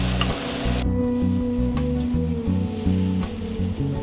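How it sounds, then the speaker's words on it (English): Tomatoes fry on a covered skillet for salsa, giving a steady crackling sizzle close up, with a dull knock of the lid or pan partway through. "put them back on the skillet and cover just so they soften up a bit more"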